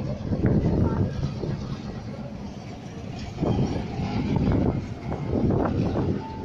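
A steady low rumble of a moving Sydney train heading toward Richmond, with rushing wind-like noise swelling and fading in waves; a voice is faintly heard in the background.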